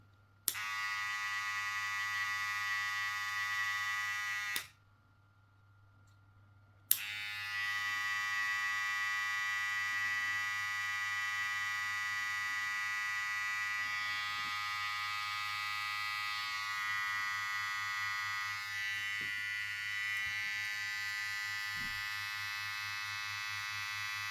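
A VGR V972 electric hair trimmer runs with a steady buzzing hum and a rough, uneven edge, cutting out briefly for about two seconds before starting up again and running on continuously, close and loud.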